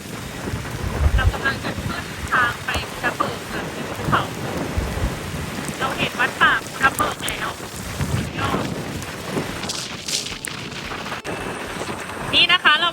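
Steady rain and rolling thunder during a wet, stormy ride up toward Phu Thap Boek in May, with rain drumming on surfaces throughout and deep rumbles swelling in and out, while people speak intermittently over the downpour.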